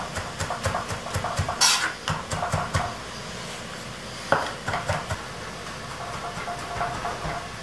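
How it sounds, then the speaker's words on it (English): Garlic smashed hard on a cutting board and then chopped with a knife, giving a rapid run of sharp, close knocks and taps with a brief louder bang midway. "I am going to smash very thoroughly. And then run my knife through."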